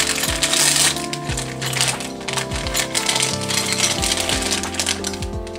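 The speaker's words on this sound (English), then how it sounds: "You got your little hex spanner set." Small metal hex spanners rattle and clink inside a plastic accessory pack from an MJX Hypergo 14302 Lancia Delta RC car. The sharp jingles are close and repeat irregularly, with no talking.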